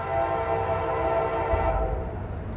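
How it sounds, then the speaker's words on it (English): A southbound CSX freight train nears a railroad crossing by an old bridge, its horn blowing in a long sustained blast over the rumble of rolling cars, loud and close, with no talk. "We got a southbound train getting ready to go over the bridge right now"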